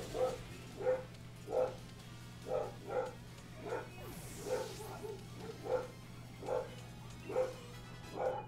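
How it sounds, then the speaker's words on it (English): Angry dogs in a video game bark in a steady, evenly spaced series of sharp, moderately loud yaps over a constant low electronic hum, with no voices present. "Oh, now the dogs are angry."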